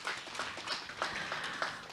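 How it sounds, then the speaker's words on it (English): Audience applause for a speaker at the Innovation Summit Southeast Asia 2023, a continuous, moderately loud clatter of many hands with a few sharper claps standing out. "Can we get another round of applause for him?"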